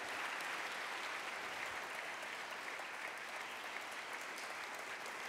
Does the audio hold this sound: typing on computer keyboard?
no